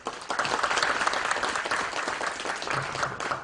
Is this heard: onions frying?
no